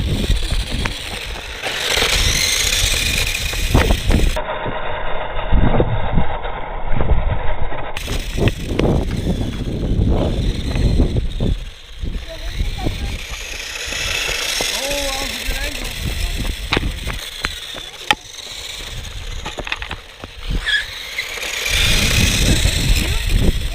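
An Upriser RC Ducati Panigale V4 S motorcycle runs with a buzzing electric whine that rises and falls as it is driven around, close by, while people talk and call out over it.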